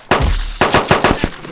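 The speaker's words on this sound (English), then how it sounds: "God, I hate this pistol." Pistol fire in DayZ (ArmA 2), several sharp, loud shots in fast succession, close and with no talking.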